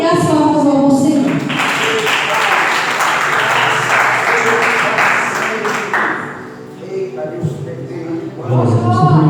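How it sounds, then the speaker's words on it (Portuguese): A church congregation at a Portuguese-language worship service breaks into loud, sustained clapping for several seconds, with a preacher's voice speaking before it starts and again after it dies away. "E as palmas vão ao Senhor"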